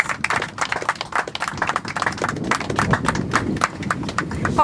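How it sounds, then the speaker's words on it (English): Applause at a formal inauguration ceremony for a real estate brokers' association, a close, uneven patter of individual hand claps from a modest crowd continuing steadily throughout. "Please give a hand of applause"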